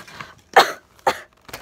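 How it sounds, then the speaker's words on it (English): A person coughs sharply two or three times at close range, each burst short and rough, with brief quiet gaps between them. "I'm coughing."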